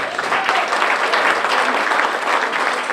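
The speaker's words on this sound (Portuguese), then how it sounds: "uma salva de palmas para a padrista Laura" An audience at a baptism with fado music gives the godmother a steady round of applause: dense, even clapping from many hands, moderately close and unbroken for the whole stretch.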